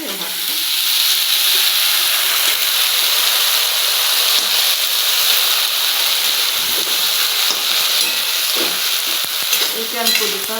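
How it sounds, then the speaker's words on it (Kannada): Boiled green gram goes into a hot pan with turmeric and green chillies, giving a continuous loud sizzle and hiss with scraping stirring sounds throughout. "ಈಗ ಹೆಸರು ಕಾಳನ್ನು ಕುದಿಸಿಟ್ಕೊಂಡಿದ್ದಲ್ರಿ ಹಾಕ್ತೀನಿ"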